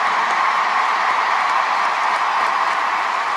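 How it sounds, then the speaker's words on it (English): A large concert crowd applauds and cheers steadily, a dense wash of clapping and shouts that stays loud and even from start to finish, with no distinct voices above it. "Let's hear a round of applause for everyone who helped us"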